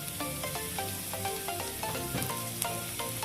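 Chopped mushrooms with tomato, turmeric, chili powder and black pepper powder fry in a pan with a steady close sizzle, punctuated by light scraping and clicking as they are stirred.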